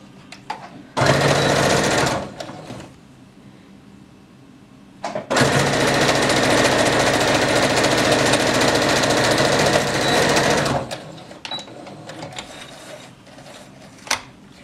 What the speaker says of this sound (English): we're going to sew from there down to the bottom of the skirt